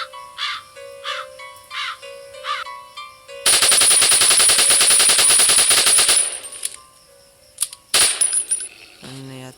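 Gunfire in a zombie video game bursts out as a long, loud rapid-fire volley after a series of repeated cawing game sounds, followed by a few sharp single shots and clatter.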